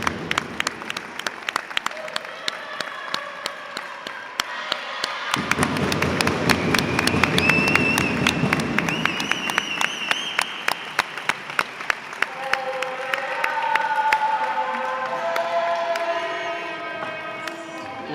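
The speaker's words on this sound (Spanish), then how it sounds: "Y un aplauso para Marineda." Audience at a women's roller hockey league match applauds steadily for a welcome, dense clapping that swells to a peak midway and continues to the end, with crowd murmur and a few cheers underneath.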